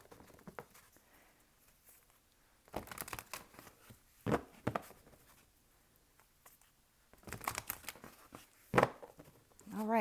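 Tarot cards being shuffled by hand, soft papery riffles and slaps arriving in short irregular bursts between quiet pauses, close and gentle.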